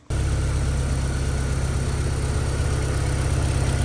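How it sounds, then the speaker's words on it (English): An Audi TTS engine starts abruptly, catching right away, then settles into a steady, close, loud idle with an even low rumble, heard alone with no talk. "Let's go ahead and start the car."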